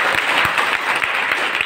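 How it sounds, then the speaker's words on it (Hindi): An audience claps for a child on stage, a brief burst of dense, steady applause close by and loud, with no voices standing out. "एक बार इस बच्चे के लिए जोरदार ताली बजाएं"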